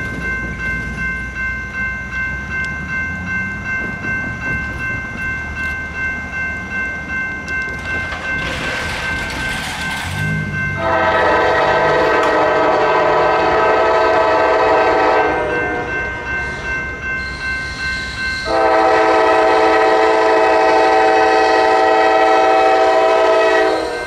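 A Norfolk Southern train passes on the H Line, its rumbling wagons steady beneath two long, loud horn blasts that sound clearly near.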